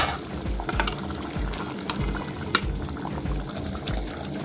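Eggs are added to a simmering egg curry, giving a close, bubbling, sizzling sound with soft splashes and a few light clinks, steady throughout with no one talking.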